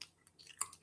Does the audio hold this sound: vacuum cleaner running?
no